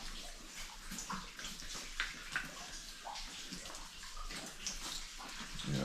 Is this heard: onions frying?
no